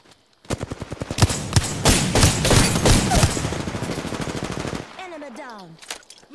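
Rapid automatic gunfire from the video game Apex Legends rattles out in a long, dense burst of loud, close shots. It cuts off abruptly, followed by a short synthetic game voice or effect.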